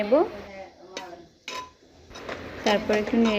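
A spoon clinks and scrapes against a metal pot while stirring spinach and moong lentils with turmeric and salt, with several sharp metallic knocks and rattles spaced irregularly, close and moderately loud.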